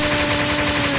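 Rubber fruit gatling punch attack in the Roblox game Blox Fruits: a brief, dense rapid-fire burst of repeated impacts, like a machine gun, loud and continuous with steady tonal hum underneath, no voices.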